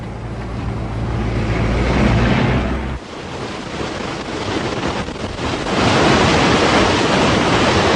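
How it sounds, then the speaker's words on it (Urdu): A waterfall in Chitral, Pakistan roars in a loud, steady rush of falling water, with wind buffeting the microphone and a brief dip in the roar about midway. "یہ آبشار تو منی نایاگرا فال لگ رہا ہے"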